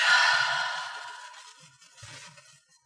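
A slow, deep exhale during a yoga breathing exercise, a soft breathy sigh that starts strongest and gradually fades over a few seconds, heard alone and close.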